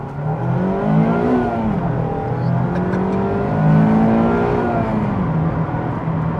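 A 2019-or-later Mazda MX-5 ND2 sports car engine drones steadily as it accelerates, its pitch rising and falling through gear changes, fairly quiet and smooth, with no voices.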